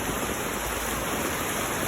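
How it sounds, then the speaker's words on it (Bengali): Rain falls on an open rooftop in a dense, continuous hiss, loud and even throughout. "সকাল থেকে বৃষ্টি হচ্ছে।"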